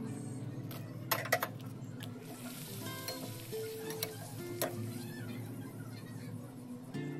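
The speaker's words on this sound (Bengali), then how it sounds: "সেই পাঁপড়গুলোকেও একে একে আমরা ভেজে নেব" Papad pieces fry one by one in hot oil, giving a steady soft sizzle with a few sharper crackles and clinks of a utensil against the pan.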